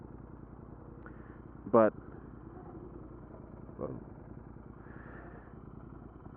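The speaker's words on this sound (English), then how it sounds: "the audio from the exhaust in the backpack with all the things in it." A motorcycle's exhaust drones steadily during a ride on the Wendell side of Raleigh, captured by a recorder in a backpack as a muffled, continuous rumble, with a brief loud knock and a spoken word.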